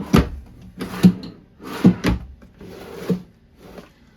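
Drawers in a 2014 Wildwood 312 QBUD camper slide open and shut in a run of close, sharp wooden knocks and rattles spread over about four seconds, with no talking.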